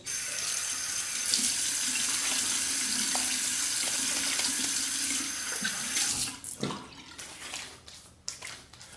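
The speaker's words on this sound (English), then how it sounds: "let's do a quick face rinse" Water running steadily from a sink tap during a face rinse after a straight razor shave, a close, loud rushing stream that gives way to splashing and dripping as it stops.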